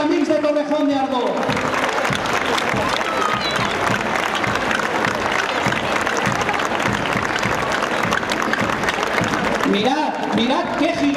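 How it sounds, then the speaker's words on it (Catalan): A large outdoor crowd at a giants and big-heads festival gathering in Ontinyent's Plaza Mayor gives sustained, loud applause and cheering for the visiting Torrejón de Ardoz group, while an amplified announcer talks briefly at the start and end. "Un fort aplaudiment per als amics de Torrejón de Ardoz."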